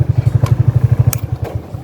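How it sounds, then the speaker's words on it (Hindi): A motorcycle engine slowing to a stop outside a roadside hotel thumps in a close, loud, regular low beat that eases and softens toward the end. "तो अब बाइक की स्पीड स्लो हो चुकी है"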